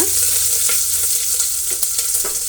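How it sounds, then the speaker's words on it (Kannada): Chopped onion and curry leaves frying in a pan with mustard seeds, a loud, close, continuous hiss of hot oil with scattered small pops and stirring clicks. "ಅದರ ಜೊತೆಗೆ ಸ್ವಲ್ಪ ಕರಿಬೇವಿನ ಸೊಪ್ಪನ್ನು ಕೂಡ ಸೇರಿಸೋಣ ಇಷ್ಟು ಫ್ರೈ ಆಗಲಿ"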